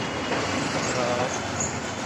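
A Mumbai local train rumbles steadily close by, a dense, continuous roar of wheels and carriages with a faint metallic squeal.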